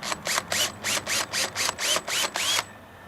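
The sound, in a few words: power drill pre-drilling a hole for a shade track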